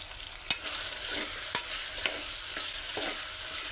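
Tomatoes with salt cook in a hot pan with a continuous close sizzle, broken by a few soft spatula taps at irregular intervals; no voices.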